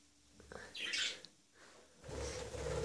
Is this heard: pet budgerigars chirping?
yes